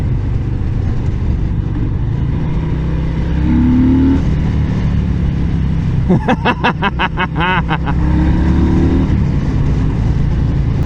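Harley-Davidson Breakout 114 motorcycle riding at speed across a bridge, its engine droning steadily throughout with rising and falling revs and a burst of rapid pulsing in the middle, loud and close with wind rush.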